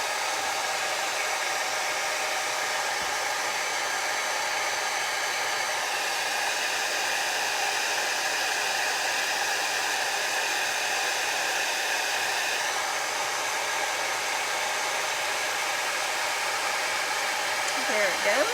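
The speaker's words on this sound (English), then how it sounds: "Let's do a quick heat embossing with my vintage heat tool." A vintage heat tool blows a steady, loud hot-air roar for heat embossing white powder, a constant hair-dryer-like rush that runs unbroken from start to finish.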